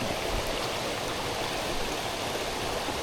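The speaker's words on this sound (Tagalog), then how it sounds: "Andito na tayo sa Imugan Falls. Papunta tayo dun sa mismong falls niya." A steady, full rush of water from Imugan Falls and its stream, with the waterfall and flowing creek close by and continuous, no voices and no breaks.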